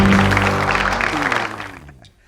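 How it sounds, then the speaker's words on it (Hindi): Studio audience applause on a Hindi TV talk show, a dense wash of clapping that starts loud, holds steady, then fades out over about two seconds. "तालियां।"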